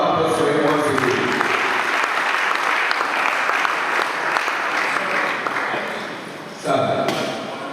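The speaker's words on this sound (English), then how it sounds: "Another round of applause for him once again." Hall audience applauding a professor at a university chemical and petroleum engineering department's 50th anniversary event, sustained clapping that fades out, then a brief renewed burst near the end.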